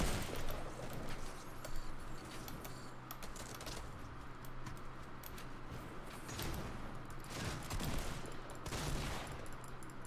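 Rapid gunfire from a Fortnite Battle Royale match, a dense stream of shots and bursts running throughout with a few louder cracks near the end.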